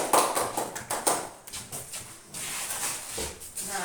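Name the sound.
classroom applause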